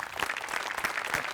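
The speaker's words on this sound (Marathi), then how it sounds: "ऋषिकांत राऊतनी दोघांसाठी टाळ्या" Studio audience applauding two comedy sketch performers on a Marathi TV comedy show, a steady dense wash of clapping at moderate level, evenly sustained throughout without voices.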